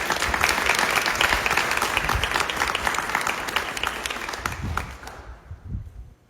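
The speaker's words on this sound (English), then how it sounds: "So let's give a round of applause to our moderator." Audience at an education candidate forum applauding the moderator, a strong burst of many hands clapping that holds steady, then thins and fades out near the end as a few last claps trail off.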